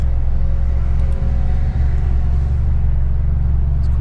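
A Mitsubishi Lancer Evo X engine holds a steady rev around 1500 RPM, a loud, close, continuous low drone with a constant rumble and no talking.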